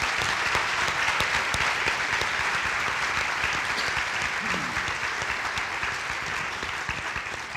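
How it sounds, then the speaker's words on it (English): A large audience at a community healing event gives the panel a loud, sustained round of applause, a thick wash of clapping that stays steady and eases only slightly toward the end. "let's give a huge round of applause to our panel."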